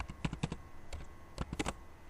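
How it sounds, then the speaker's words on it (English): Code is typed into Notepad on a computer keyboard, with quick bursts of close, clicky keystrokes separated by a short pause. "So open the notepad, type the code."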